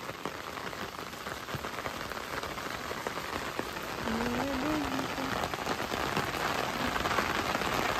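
Steady rain falls on a farm with cows and buffalo, a dense continuous patter on surfaces that thickens midway, with a brief faint voice-like tone partway through.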